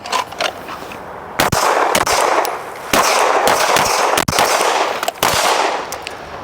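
Rifle fired during a range drill in quick irregular bursts of sharp, loud cracks with metallic clanks between them, close by and without talking.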